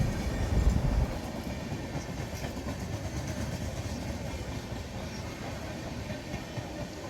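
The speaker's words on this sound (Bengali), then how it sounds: "আমাদের ট্রেনের পাশ দিয়ে নাম না জানা একটি এক্সপ্রেস ট্রেন ক্রসিং করলো" Express train passing alongside a MEMU local between Howrah and Jaleswar, heard as a steady low rumble and rolling wheel noise from inside the carriage, fairly faint and continuous after a louder opening thump.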